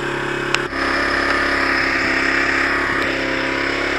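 A Zontes Tiger 125cc Chinese motorcycle engine running steadily at idle after a wiring fix, a close, loud, even hum with a small click and a shift in tone just after it starts, no voices.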